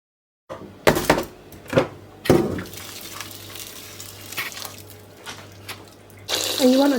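Hot water running from a kitchen tap while cooking Nigerian fried rice, a steady splashing stream under clanks and knocks of dishes and utensils, with a louder gush near the end.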